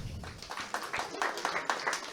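An audience claps at an award ceremony honouring people with shawls and mementos, steady, moderately loud applause continuing under a speaker's voice.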